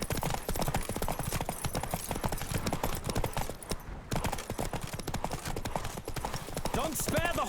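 Horse galloping in the video game The Witcher 3, fast rhythmic clip-clop hoofbeats running almost without pause, loud and close, while a voice talks over them.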